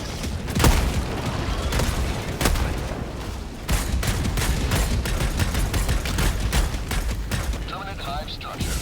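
Dense, continuous gunfire and explosive booms from a Helldivers 2 battle against a flying dragon roach, with sharp repeated shots and heavy blasts throughout and a voice speaking over the din.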